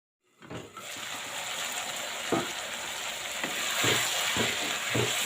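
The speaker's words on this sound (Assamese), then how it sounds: "মই আলু আৰু ভাতকেৰেলা পিঁয়াজ এনেকৈ ভাজিম" Potatoes, bitter gourd and onion frying in hot oil with a steady close sizzle, broken by several soft thuds and scrapes of stirring.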